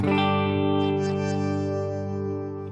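A sustained, distorted electric guitar chord rings out through a Fractal AX8 multi-effects unit with reverb engaged, thick and steady with a slowly fading tail, played alone.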